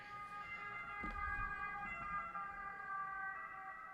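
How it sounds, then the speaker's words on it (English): An ambulance siren wails steadily in the distance, its tones holding under a low rumble of traffic. "there's an ambulance passing by"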